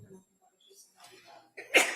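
A single sharp sneeze bursts out in a courtroom during trial proceedings, loud and close, following scattered murmurs and movement.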